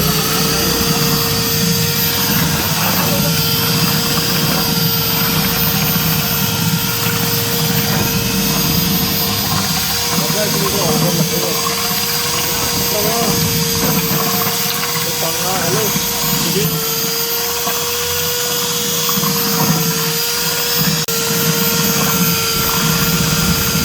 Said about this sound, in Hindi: दूध मिक्स करने के बाद अब हम इसमें ग्राइंडर चलाएंगे, अच्छे तरीके से इसको ग्राइंड करेंगे।